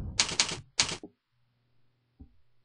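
Keys tapped in quick short bursts on a keyboard, two clusters of crisp clicks close to the mic followed by a faint low hum and a single soft thunk, no talking.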